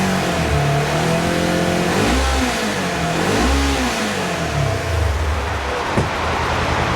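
Engine of a 2022 Polaris RZR Trail S revving up and down a couple of times, loud and close, pitch rising and falling in smooth swells with no talking.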